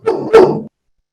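Dog barking at home: two quick, loud, close barks in succession, then silence.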